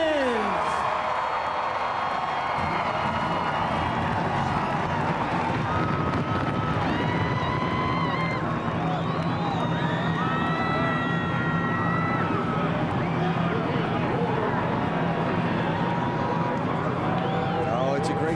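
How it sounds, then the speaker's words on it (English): Racing engines of NASCAR stock cars at the start of the 2004 Budweiser Shootout at Daytona drone and whine at varying pitch with crowd noise beneath, while an announcer talks over much of it. "Sound hearing those racing engines running again."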